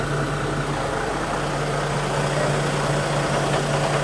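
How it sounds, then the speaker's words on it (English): A steady, low engine idle rumbles continuously with a constant hum, close and unchanging, with no voices. "You're probably only just hearing fucking engine noise"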